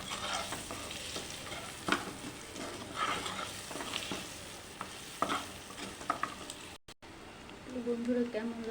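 Chopped onion sizzles steadily in a pan with chilli powder, with scraping stir strokes throughout and a brief voice near the end.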